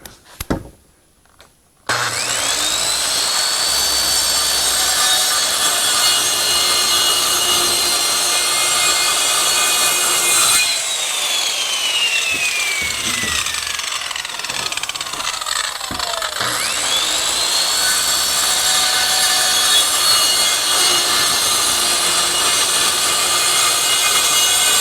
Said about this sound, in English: the remaining half of the sheet of plywood, I'm just going to cut in 2-foot sections.